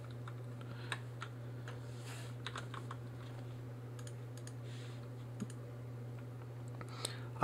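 Scattered computer mouse clicks and light keyboard taps sound at close range over a steady low electrical hum, with no talking.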